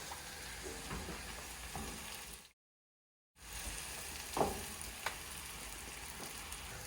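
Cornbread stuffing mixture being stirred together in a bowl, a steady close scraping and sizzle-like rustle with a brief silent gap midway and a few sharper scrapes after.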